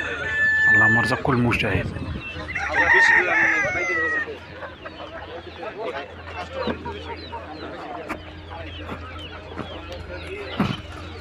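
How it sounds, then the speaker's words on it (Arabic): Bantam ornamental chickens at a bird market in Khamis Mushait, Saudi Arabia, crow and cluck close by in a busy mix of calls, with people talking among the crowd. "الدجاج القزم، هذا هو اللي كنت أتكلم عليه الآن. هذا الدجاج القزم، دجاج الزينة"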